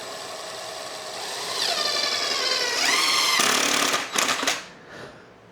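Power driver sinking screws into workbench wood, a close, loud whine that climbs in pitch over a few seconds, then stutters and cuts off.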